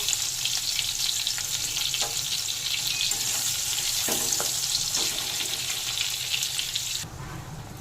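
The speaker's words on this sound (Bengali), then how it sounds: "ওই তেলের মধ্যে বেগুনগুলোকে দিয়ে ভেজে তুলে নেব।" Eggplant pieces fry steadily in oil left over from frying fasha fish, a dense continuous sizzle with faint stirring clicks, dropping suddenly quieter near the end.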